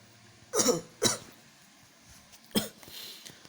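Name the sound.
coughing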